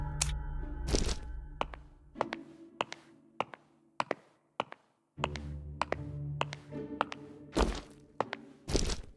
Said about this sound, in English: Wait, the flooring sounds off here.